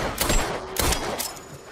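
Gunshots ring out in a John Wick film scene: three loud, sharp bursts in quick succession, each with a crack and a brief echoing tail, close by and with no speech.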